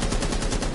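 Rapid gunfire from the tactical shooter Rainbow Six Siege, a dense burst of shots packed closely together, loud and steady across the whole moment with no talking.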